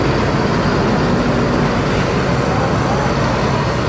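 An ANS intercity bus pulls onto a main road in West Sumatra, its engine noise and road roar forming a loud, steady wash heard from inside the cabin.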